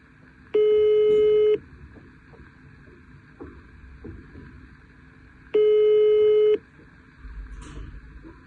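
Two long electronic telephone tones, each about a second, separated by several seconds of quiet room noise, like a call ringing out on the line.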